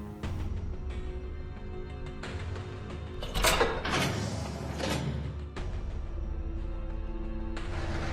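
Large doors open with mechanical rumbling, clanks and a louder scraping surge midway, heavy low-end movement continuing throughout.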